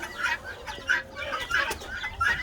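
Hens clucking in a farmyard flock, repeated short clucks close by in an uneven rhythm with no talk.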